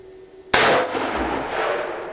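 A single very loud gunshot from a Taurus Raging Hunter .460 S&W Magnum revolver fired single action outdoors at 10 yards, a sharp sudden blast followed by a long rolling echo that slowly fades.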